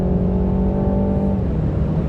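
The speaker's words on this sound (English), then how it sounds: "I'm gonna put it in sport and I'm gonna step on it. So it downshifts pretty quickly." A 2020 BMW 330i in sport mode accelerates hard from inside the cabin, its engine note holding a steady loud drone with a rising harmonic tone that eases as it upshifts.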